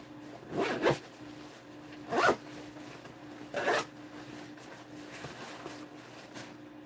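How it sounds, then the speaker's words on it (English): Three quick zipper pulls, each a short rasping zip spaced about a second and a half apart, close by, with a faint hum between. "and a zipper on this side."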